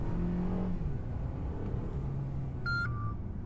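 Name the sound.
Mercedes A220 sedan accelerating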